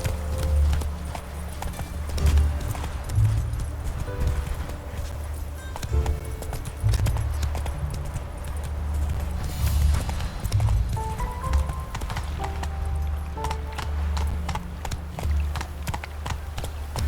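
Roach the horse gallops in The Witcher 3, steady clip-clop hoofbeats pounding close and loud over a low rumbling game soundtrack, with a rider's brief voice now and then.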